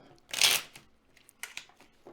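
A tarot deck being shuffled at a psychic reading, one loud riffling burst followed by a few softer card flicks and taps, close and without talk.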